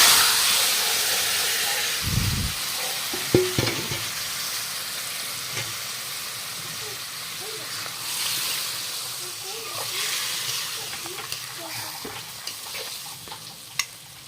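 Fish head and nigella seeds frying in hot oil for a Bengali fish-head curry, a steady sizzling hiss that runs throughout, with a few louder bursts and occasional stirring clatter close by.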